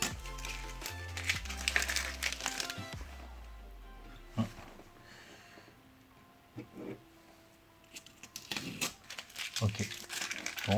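Protective tape is peeled off hydro-dipped exhaust tips finished in grey 3D carbon, giving intermittent crinkling and tearing bursts close to the mic, with a low hum and short quiet gaps between pulls.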